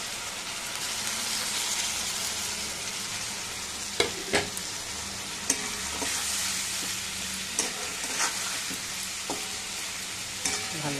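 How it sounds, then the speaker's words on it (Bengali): Ginger and whole spices frying in a pan for a vegetable curry: a steady, hissing sizzle broken by sharp clacks and scrapes of a stirring spoon, close up and without speech. "ভালো করে কষাতে হবে"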